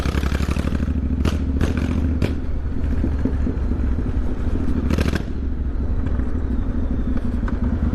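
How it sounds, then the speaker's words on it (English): A motorcycle rides close behind on a London street, its engine a loud, steady rumble throughout with several sharp clattering bursts on top. "There's a motorcycle behind me."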